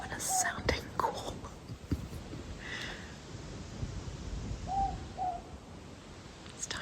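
A morepork owl calls at night in a New Zealand mountain winter camp: short faint hoots far off, under close whispered talk and rustling.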